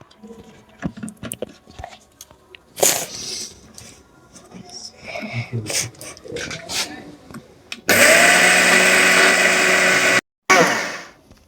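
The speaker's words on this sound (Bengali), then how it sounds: "এটা দেখো মিক্সার মেশিনে দিয়ে দিয়েছি পিসার জন্য" A kitchen mixer grinder starts up loud and close and runs steadily for a couple of seconds while grinding sesame ingredients for pitha, cuts out briefly, then restarts, after earlier scattered clatter and handling noises.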